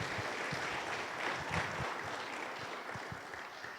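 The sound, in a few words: clapping for the Lord in church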